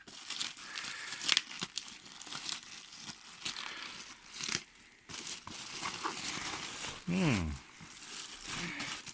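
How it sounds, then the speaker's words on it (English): Crinkling plastic packaging being pulled off a protective storage and transport bag for a SkyWatcher Evostar 90 refractor telescope, with close, irregular rustles and crackles and a brief whistling squeak near the end; a voice speaks intermittently. "So I'm removing the plastic bag"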